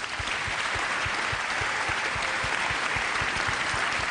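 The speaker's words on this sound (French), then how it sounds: "Sous les applaudissements." Steady, dense applause from a crowd at the national Talents des Cités awards event in France, loud and continuous, with rhythmic clapping beating underneath.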